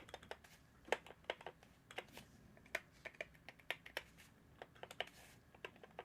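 Keystrokes on a Wooting 60HE keyboard, typed out of the box in a quick irregular run of light clacks, some stronger than others, with a slight wire rattle on the larger keys.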